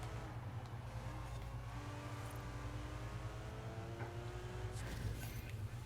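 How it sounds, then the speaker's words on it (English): A car engine in a racing video game screams at extremely high revs just ahead, its rising and falling tones whining steadily over a constant low hum, with no talking. "it's the car in front of me that's making that sound"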